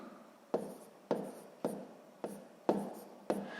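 Someone writes out a math solution by hand, six short, evenly spaced scratching strokes, each with a sharp start and a fading tail, close and quiet against a soft background.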